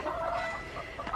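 Backyard homestead chickens cluck softly and close by in a short burst of murmuring hen calls, with a few sharper notes near the end.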